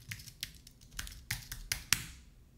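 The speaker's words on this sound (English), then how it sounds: "So just type in the default password" Password typed on a computer keyboard while setting up a Raspberry Pi: about eight quick, crisp key taps in an uneven rhythm, close and fairly quiet, with no talk.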